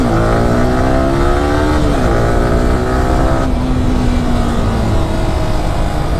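A Yamaha R15 V3 sport motorcycle engine revs loud and close, a continuous throaty drone whose pitch climbs, dips, and shifts across several seconds without a break.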